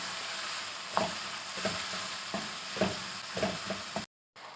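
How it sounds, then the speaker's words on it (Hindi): An egg and onion chutney with salt, red chili powder and turmeric is stirred in a sizzling pan: steady close frying hiss with regular spoon strokes about once a second, then a brief cut to silence. "अच्छी तरह हम मिक्स कर लेंगे।"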